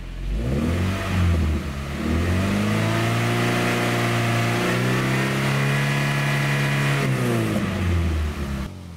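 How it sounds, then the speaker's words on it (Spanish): A Toyota car engine, just repaired after damaged connecting-rod bearings and now blowing bluish-white smoke, rises from idle into a sustained rev. It holds a steady high drone up close, then falls back near the end. "Y si aceleramos"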